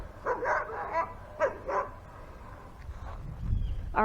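A small puppy barking outdoors by a dam on a nature walk, several short sharp yips and barks in quick bursts at moderate distance, followed by softer whimpering sounds, no talking over it.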